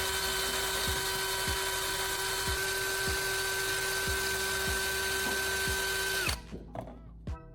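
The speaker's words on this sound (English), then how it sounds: "I'm inserting it into my drill and carefully shaping its tip against a grinding disc." Power drill spinning a metal tip against a grinding disc, a steady high whine with a faint rhythmic ticking that cuts off near the end, leaving a few brief clicks and taps.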